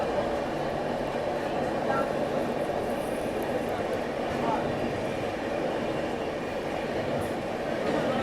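The Mumbai-Hapa Duronto Express rolls through Surat station at midnight, a steady rumbling roar of wheels and carriages with faint rattles, heard from inside the moving train.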